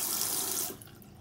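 A toilet cistern in a pub lavatory fills with a close, steady hiss of rushing water that cuts off abruptly about two-thirds of the way through.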